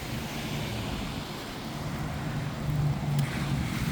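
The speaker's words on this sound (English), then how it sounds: "We got a water main break right here." Water gushes out of the ground from a broken water main under a road, a steady broadband rushing wash that swells slightly toward the end, heard alone with some wind.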